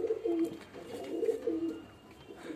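Pigeons cooing in a loft: soft, repeated throaty coos in a rolling rhythm, close and moderately loud, continuing throughout with slight background noise.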